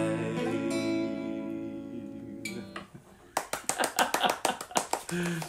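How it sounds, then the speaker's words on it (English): A woman claps along to a song at home, about a dozen sharp hand claps in a quick steady rhythm following a stretch of sustained music, close and loud. "my wife likes to clap for that one"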